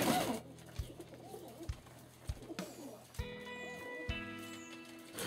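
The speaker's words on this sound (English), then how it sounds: "Good flights on these Noel Perrin pigeons" Distance racing pigeons of the Noel Perrin line, blue cocks among them, coo softly in a loft. Low, rhythmic coos repeat against a faint background of other birds and rustling.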